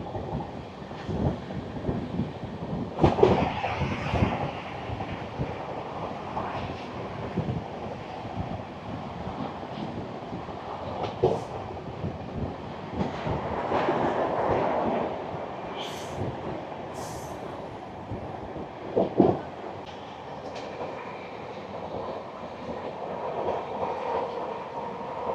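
The 12337 Shantiniketan Express runs on rails past Belanagar near Belur Math, giving a steady broadband rumble with wind buffeting and occasional louder clunks from the wheels, heard from on board with no talking.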